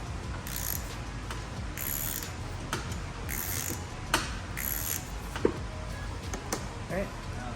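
A ratchet loosens a 13mm bolt on a C5 Corvette steering rack, giving quick bursts of clicking strokes with pauses between them, heard close over faint shop noise while a voice talks.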